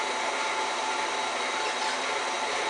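An electric mixer whirring through mashed potatoes, a steady loud motor drone with no break and no voices.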